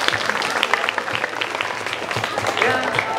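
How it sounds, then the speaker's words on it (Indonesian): Students clapping at a school assembly on safe riding, dense applause throughout with a voice running underneath. "Tepuk tangan untuk anak-anak motor."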